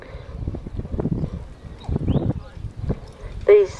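Ponies pulling a tandem carriage in a driving exchange, hooves clip-clopping in an uneven rhythm under steady talk, with a brief whinny-like squeal near the end.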